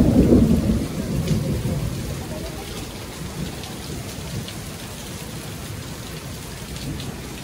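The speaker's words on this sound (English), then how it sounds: "Storming." Loud thunderstorm: a heavy rumble of thunder opens, then fades into steady, dense rain pattering on surfaces for the rest of the stretch.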